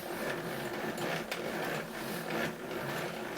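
A hand-powered threading setup is cranked backwards while cutting a thread on a bolt, giving a faint, continuous mechanical whirring with soft ticking and rasping.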